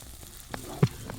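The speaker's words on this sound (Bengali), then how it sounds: "শুকনো লঙ্কাটা একটু ভাজা ভাজা হয়।" Dried red chilli paste fries in hot oil for mutton kosha, a short soft sizzle with a couple of faint stirring taps, no voices.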